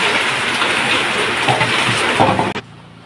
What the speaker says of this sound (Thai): วันนี้ฝนตกจ้ะ ฝนตกฝนกำลังฉ่ำนะ